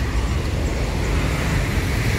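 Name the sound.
heavy road traffic on the eastern route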